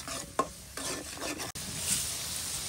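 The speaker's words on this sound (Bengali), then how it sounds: "তুমি মশলাটা কষাও" Spice paste (masala) sautéing in a pan, with a steady close sizzle and scraping spoon strokes, a couple of sharper knocks against the pan breaking the frying hiss.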